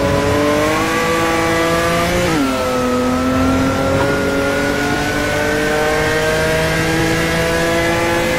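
Racing cars in an online racing video game, with a loud continuous engine whine holding steady, briefly dropping in pitch as the car shifts gear, then rising again at full throttle.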